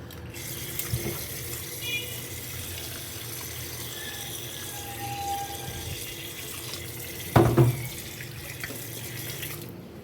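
Water runs steadily from a kitchen tap onto raw chicken in a sink, a constant soft hiss with a brief louder splash near the end and no talking.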